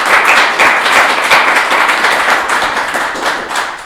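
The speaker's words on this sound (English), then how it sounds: "please give a round of applause to our volunteers" An audience at a convention panel applauds loudly and continuously in a close, dense burst of clapping that fades slightly toward the end.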